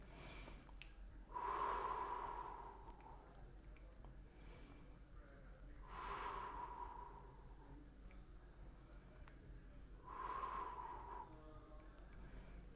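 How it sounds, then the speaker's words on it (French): Three slow, deep breaths taken facing forward during a guided relaxation exercise, each a soft rushing inhale and exhale spaced about four seconds apart, close and quiet with no talking. "On revient de face et comme précédemment, 3 respirations de face."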